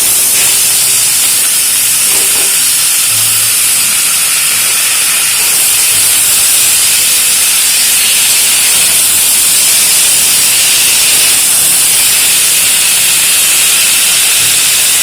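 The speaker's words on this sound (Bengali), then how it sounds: "এবার এর মধ্যে সেদ্ধ করে রাখা ওল শাক দিয়ে দেবো।" Boiled elephant foot yam greens hit hot mustard oil tempered with five-spice and mustard seeds, giving a steady, loud steamy hiss that runs unbroken and evenly throughout.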